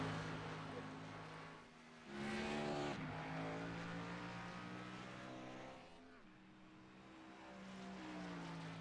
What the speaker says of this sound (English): Cars on the racetrack.